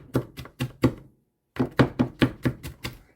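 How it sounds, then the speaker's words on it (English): Vegetables for pico de gallo being diced with a knife on a cutting board, giving a quick run of sharp, evenly spaced chops, a short pause, then another steady burst close by. "And then I like to go kind of at a 90-degree angle to what I just cut, and it just helps to dice up some more of what is there"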